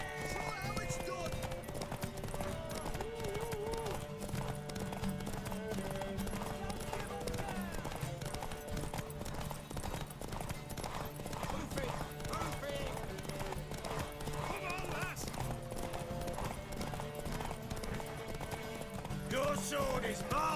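A horse gallops in a race in The Witcher 3: Wild Hunt, with rapid, continuous clip-clopping hoofbeats and an occasional neigh running throughout, close and loud over a busy game soundtrack, with voices heard at times.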